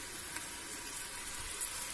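Green beans sizzle in hot oil in a home kitchen pan, a steady, close hiss of frying that holds evenly throughout with no voices over it.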